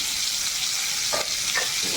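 Steady bright sizzling of pointed gourd frying in a pan, with a couple of soft stirring scrapes partway through; no voices.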